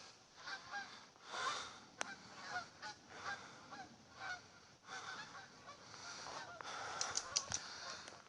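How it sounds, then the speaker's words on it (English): Migrating geese honk overhead in an outdoor setting under rain and storm clouds, giving a steady run of distant, fairly faint calls with a few louder honks, heard alone without talk. "We've got some migrating geese."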